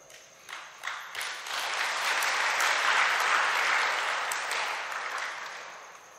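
An audience at an evening religious camp session claps together, the applause building over a second and holding steady and full before tapering off near the end, with no voices over it.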